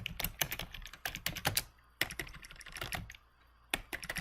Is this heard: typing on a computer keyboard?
yes